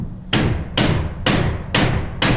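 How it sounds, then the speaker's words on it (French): A hammer strikes five times at a steady, even pace during an interior door installation, each blow loud, close and sharp, then decaying before the next, with no talking. "Après ça, marteau."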